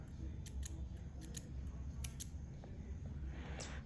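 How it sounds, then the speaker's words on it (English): Scissors snip through velvet yarn for a crocheted heart key holder, several quick sharp cuts in a row over a low steady background hum. "And after this, you can cut your yarn."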